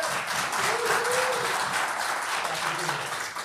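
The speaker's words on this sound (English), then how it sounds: "big round of applause for Joshua Behrens." A live audience at a La Jolla, California show applauds a guest being welcomed, a dense steady roar of clapping with a voice briefly audible underneath.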